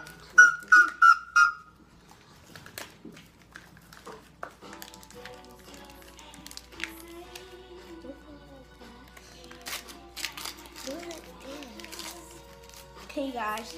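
A long handmade whistle blown in four short shrill toots at the start, followed by scattered clicks and tonal noises while children's voices talk quietly in the background.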